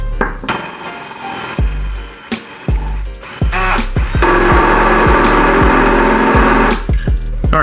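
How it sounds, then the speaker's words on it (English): A power drill boring through a metal header part held in a clamp, loud close whirring with bursts of motor revving, stops and restarts, and a steady grinding stretch. "start drilling a hole through the first one"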